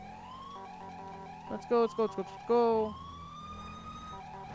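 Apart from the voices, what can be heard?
police siren from a video game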